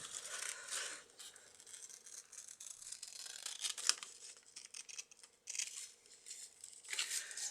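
Scissors snip through paper for a journal page, with bursts of close crisp cutting and short pauses between strokes, a few rustles of the sheet, and no voices.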